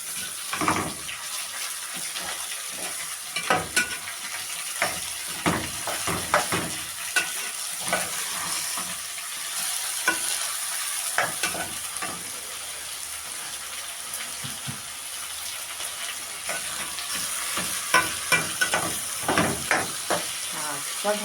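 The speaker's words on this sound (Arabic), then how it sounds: "هنزل عليها بنص كيلو لحمة مفرومة" Half a kilo of minced meat sizzles and fries in a pan with browned onion, stirred with repeated scraping clicks and clatters over a steady close hiss.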